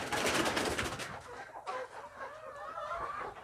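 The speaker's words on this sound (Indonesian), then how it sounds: "Seperti inilah jenis Janaka dan ayam jenis Narayana" Janaka and Narayana breed chickens at a farm coop cluck and call together, a dense, fairly close flock chatter that stays steady with overlapping bursts.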